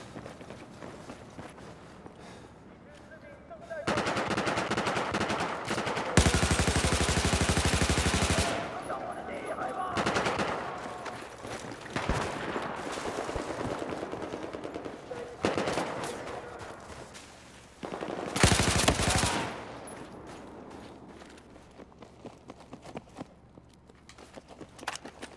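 Bursts of machine gun fire in the Battlefield 4 game's Rush mode, several loud sustained volleys separated by quieter stretches, with a player talking between them.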